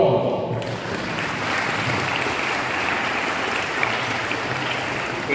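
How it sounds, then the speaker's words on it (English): Dense, steady audience applause at a school regional sports meet ceremony in Guwahati, welcoming a chief guest; a sustained wash of clapping begins almost at once and holds at an even level throughout. "give a round of applause"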